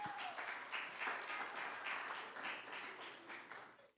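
A church congregation applauds, a soft, steady wash of many hands clapping that stays fairly distant and fades out at the end.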